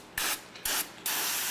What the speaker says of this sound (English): take the brake cleaner and spray the whole wheel